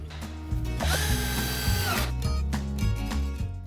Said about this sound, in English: we'll go ahead and reinforce that with these Craig exterior